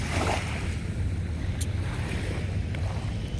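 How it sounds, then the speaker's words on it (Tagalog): Sea waves wash along the Manila Bay shore with wind buffeting the microphone, a continuous rushing surf heard up close and alone for a few seconds. "Yan yung dagat oh."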